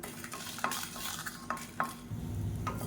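Red chillies, cloves and cinnamon dry-roast in a pan, giving faint scraping stirs and soft crackles at irregular intervals with a low background hiss and no talking.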